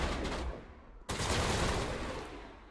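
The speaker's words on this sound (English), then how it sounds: "Rex, stop shooting me" Dense bursts of automatic gunfire from the Mass Effect Legendary Edition video game, a sustained rattling barrage that briefly cuts out near the one-second mark before resuming at full intensity.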